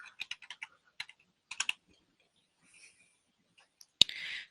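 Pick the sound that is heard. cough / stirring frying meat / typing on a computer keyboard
typing on a computer keyboard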